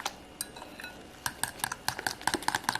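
Tempura batter for a shrimp, tofu and kimchi pancake is mixed in a bowl: quiet, irregular clinks and taps of a utensil that grow into a quicker rattling run of knocks.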